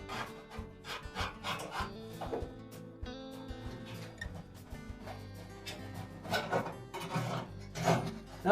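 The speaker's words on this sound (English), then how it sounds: "with a putty knife, not too sharp a putty knife, you find one that's a little blunt, we'll scrape off any of the old glue and felt that remains on the rear bulkhead" A blunt putty knife scrapes old glue and felt off the rear bulkhead of an Amana dryer, producing close, repeated raspy scraping strokes.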